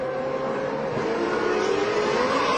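GP2 Series race cars roar loudly and continuously at an Italian circuit as one car overtakes another, the engine note sustained and close with no pauses.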